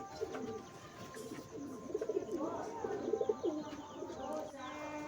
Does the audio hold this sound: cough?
no